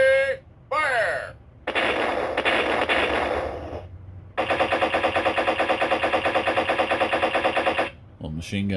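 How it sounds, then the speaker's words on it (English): A Ninja Turtles Super7 toy's electronic effects: a brief warbling tone, a noisy burst, then a long rapid rattling machine-gun sequence, loud and synthetic. "Little machine gun."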